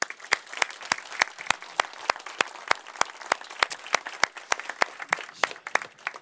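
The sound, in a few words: audience applause at a conference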